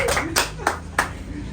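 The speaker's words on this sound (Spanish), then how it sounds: "Adelante, un aplauso." Four sharp hand claps ring out in a brief, evenly spaced burst in an indoor studio setting, close and crisp rather than a full crowd.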